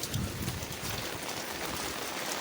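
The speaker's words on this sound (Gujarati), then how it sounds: "ધોમધાર વરસાદ આવે છે" Heavy rain roaring down in a dense, unbroken wash of sound, close and loud throughout.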